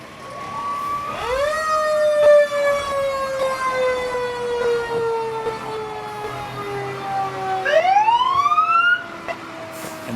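Fire engine number 11 rolls through a St. Patrick's Day parade in Maple Lake, its loud wailing siren falling slowly in pitch, then sweeping up again near the end, with no talk over it.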